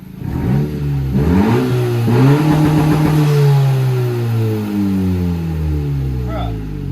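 A Honda Civic Si with an MA Performance race exhaust revs up from idle, rising and falling through a few throttle blips close by, loud and throaty, with people talking over it.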